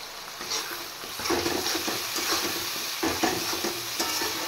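Ground spice paste fries with salt and turmeric in a pan for a vegetarian potato and pointed gourd curry, a dense, continuous close sizzle with stirring scrapes and pulses, no talk.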